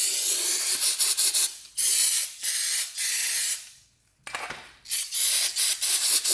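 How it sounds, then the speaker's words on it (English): Aerosol cleaner sprayed onto old two-stroke motorcycle parts in several loud hissing bursts of varying length, with short pauses and one longer gap between them. "Spray this off here."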